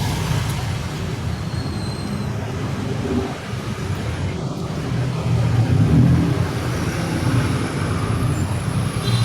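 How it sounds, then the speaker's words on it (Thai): Steady road traffic rumbles continuously at moderate volume, with a low engine drone that swells briefly as a vehicle passes midway. "ทุกคนสามารถปิดเสียงได้นะเพราะว่ามันเป็นเสียง รถยนต์"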